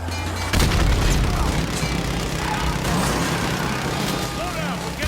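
Rapid gunfire and booming blasts in Call of Duty Modern Warfare 2 multiplayer, loud and dense throughout, with someone talking over the game sounds.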